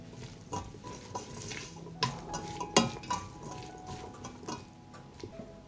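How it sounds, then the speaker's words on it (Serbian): A spoon stirs vegetable soup seasoned with pepper and salt in a pot, giving soft scraping and sloshing with scattered sharp metallic clinks against the pot, fairly close and moderately quiet. "Promešat ću."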